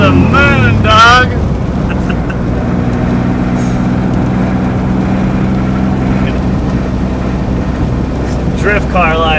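BMW E36 drift car engine running loud and close, a steady droning rev held high with rough harmonic buzz throughout, with a few brief voices over it.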